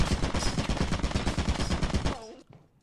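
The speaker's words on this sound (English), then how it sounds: "There's a turret directly to the left." Rapid sustained automatic fire from a turret in the Lethal Company video game, a loud dense stream of shots that cuts off abruptly and leaves a brief fading tail.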